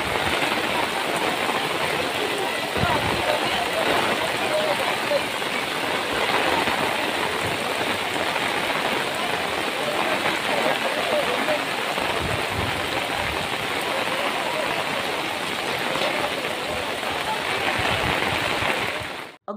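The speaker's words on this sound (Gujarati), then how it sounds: "6 કલાકમાં 10 થી 12 ઇંચ વરસાદ પડતા શહેરના માર્ગો નદીઓમાં પલટાઈ ગયા છે" Heavy rain pours over flooded city streets in a dense, unbroken hiss that holds steady for the whole stretch, with a faint low rumble underneath.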